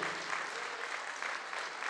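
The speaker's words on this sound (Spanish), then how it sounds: "Si son tan amables de brindarnos un fuerte aplauso para recibirla hoy" Steady applause from a crowd of guests at a quinceañera celebration, a continuous dense clatter of clapping that holds at an even level throughout.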